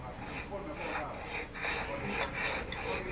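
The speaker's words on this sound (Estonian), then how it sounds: "Tuleb ainult nii, et ma saagi liigutada." A small hand saw cuts through dental prosthetic material in a steady back-and-forth rasp, each close gritty stroke following the last in an even rhythm.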